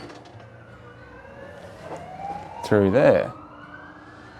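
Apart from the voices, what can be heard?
police car siren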